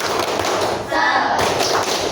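Children in a classroom perform a rhythmic clapping routine, with dense, fast claps running steadily throughout and voices chanting along.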